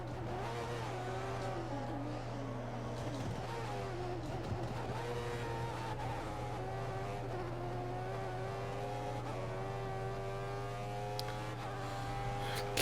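Formula 1 race car engines in F1 2014 drone steadily with rising and falling pitch as cars pass, over a constant low hum, moderately loud and with no talking.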